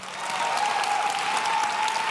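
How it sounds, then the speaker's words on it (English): An audience at a keynote talk on customer experience breaks into full, steady applause that holds at an even level for about two seconds, with a faint sustained tone underneath. "so once before we start, big round of applause"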